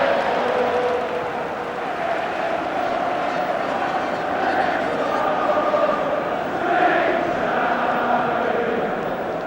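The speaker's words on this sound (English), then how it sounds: "Swing Low, Sweet Chariot is the song of the crowd." A large football stadium crowd at an England vs Netherlands World Cup qualifier sings Swing Low, Sweet Chariot, a broad sustained chant that swells in places.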